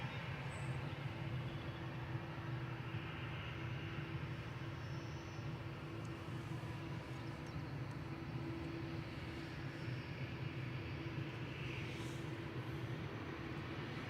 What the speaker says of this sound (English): It's our first heavy departure of the day. A7BHC heading back to Doha, 787-9 Dreamliner with flight 22.